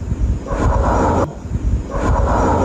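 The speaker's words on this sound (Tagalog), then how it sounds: "Parang kulog na medyo disperse po yung tunog na medyo malayo." Distant rumble like thunder from a falling meteor, a broad, dispersed roar that swells twice across the stretch, steady and fairly loud with no talk.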